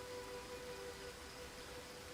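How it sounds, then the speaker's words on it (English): Rain falls in the video game Crimson Desert as a faint, steady hiss of drops that continues evenly throughout, with no voices. "Oh, and now it's raining on me?"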